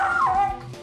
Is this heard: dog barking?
yes